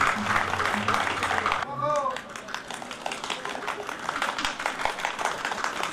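Applause from a concert audience fills the room, a dense, steady wash of many hands clapping that carries on throughout, with a brief voice cutting in near the start.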